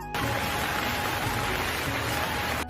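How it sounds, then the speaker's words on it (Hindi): Heavy rain pours steadily as a dense, continuous wash of hiss and patter, loud and close, filling the whole stretch with no voices over it. "बाहर जोर से बिजली कड़कती है और वर्षा होने लगती है।"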